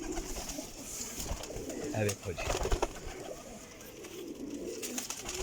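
Pigeons coo softly in a loft, low throaty calls repeating through the clip amid background rustle, while someone speaks briefly over them.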